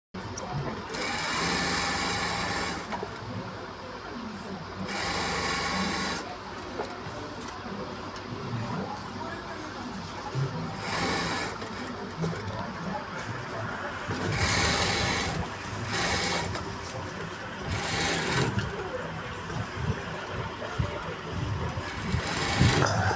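A sewing machine runs in long bursts with short pauses, its fast rattling stitch close and steady while joining a blouse back piece to its lining.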